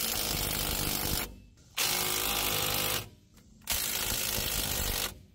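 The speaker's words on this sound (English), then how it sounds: "So I'm going to use my impact until my new one comes in." Cordless impact wrench hammering Ford F150 4WD passenger-side wheel bearing bolts tight, two loud sustained ratcheting bursts with short pauses between, close up with no talking.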